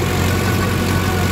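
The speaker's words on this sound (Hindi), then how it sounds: "बहुत ही शानदार आवाज के साथ ट्रैक्टर है।" A Mahindra 555 DI 57 HP tractor engine runs close and loud, a dense, even diesel drone with a steady low throb over a short stretch.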